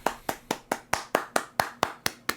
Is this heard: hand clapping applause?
yes